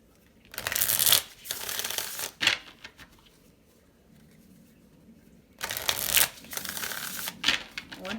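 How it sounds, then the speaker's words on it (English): Two bursts of playing cards being shuffled with crisp riffling, separated by a quiet pause, close and clear. "One more shuffle."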